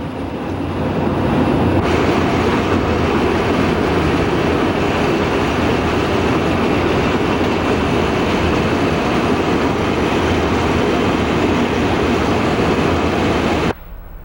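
An Amtrak train on the Northeast Corridor roars past at 125 mph, a loud, sustained rushing rumble that swells abruptly, holds for about twelve seconds and then cuts off sharply.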